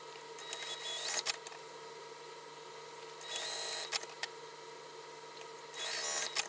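A sewing machine back stitches the darts on a satchel, running in three short bursts of rapid stitching separated by quieter pauses, close and fairly loud, with no speech.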